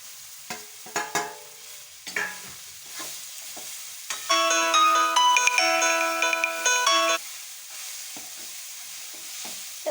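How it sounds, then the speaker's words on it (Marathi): Poha frying in a pan with chutney and salt, with scattered clinks and scrapes of stirring, interrupted midway by a loud melodic electronic ringtone lasting a few seconds before the stirring resumes quietly, no voices. "मग याला फ्राय करून घ्यायचं आहे"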